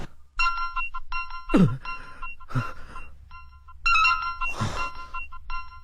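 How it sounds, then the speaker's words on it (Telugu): A phone ringtone plays a repeating electronic melody in bursts, with a few louder thuds and swooshes cutting in between. "మళ్ళీ వీడు ఫోన్ చేశాడు"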